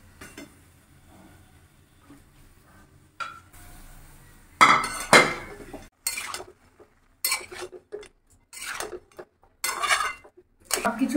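Vegetables and Malabar spinach cooking in a pan, starting with a quiet stretch and then a run of loud metallic clanks and scrapes as a spoon works against the pan, with no one speaking.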